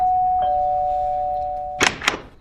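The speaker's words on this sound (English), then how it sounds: "just going to press the doorbell" An electronic doorbell tone holds steadily for almost two seconds, then two sharp chime strikes ring out close by.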